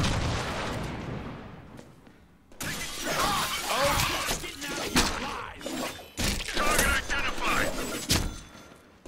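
An explosive charge detonates in the Deadpool video game, a loud shattering blast followed by several more crashing bursts and impacts, with game voices heard at times.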